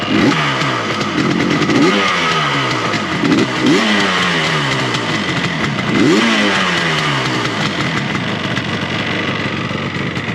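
A 1975 Yamaha RD350 two-stroke motorcycle runs close by, cold, with the choke just taken off, idling with a crackling, uneven burble and several short throttle blips.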